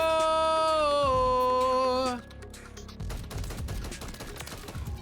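Automatic gunfire in a Call of Duty game starts after a sustained musical tone ends, then rattles on as a steady, fairly loud stream of rapid shots.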